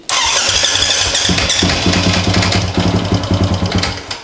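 A small motorbike engine cranks and fires into a steady, loud idle, its regular chugging pulse continuing close by, with no talk. The battery has just been reconnected.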